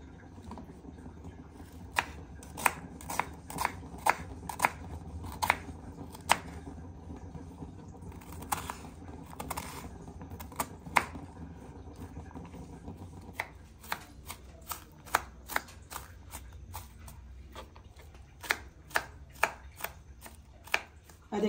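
A knife chops onions on a board for a Punjabi-style mixed vegetable curry, giving a long run of sharp, close knocks in a fairly steady rhythm with no talk.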